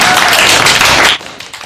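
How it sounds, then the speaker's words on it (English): A short burst of audience applause in a school JROTC classroom, dense clapping that fills the first second and then cuts off abruptly into near silence. "Everybody give a round of applause."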